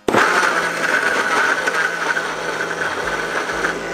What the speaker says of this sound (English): Blend her up.